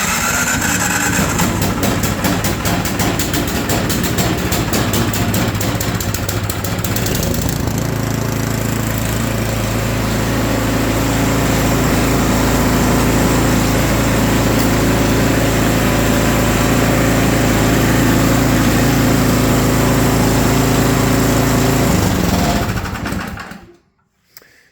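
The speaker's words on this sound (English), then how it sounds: "And then you just hold the start button down." A small engine is started by holding the start button, then runs loudly and steadily at idle for about twenty seconds before abruptly shutting off.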